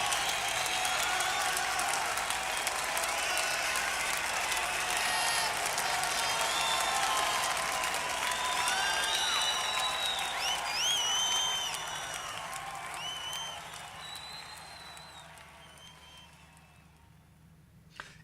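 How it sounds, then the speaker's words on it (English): Long, dense applause with cheers and whistles from a live concert audience after a rock performance, steady and full before fading out toward the end. "I'll let the applause run."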